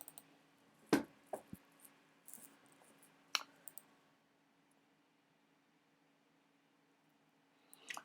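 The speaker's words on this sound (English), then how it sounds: "ndiza kudouble click ke ngoku le installer" A computer mouse is double-clicked to open a software installer: a couple of faint, sharp clicks near the start, followed by a few more sparse ticks and then near silence, with no talking.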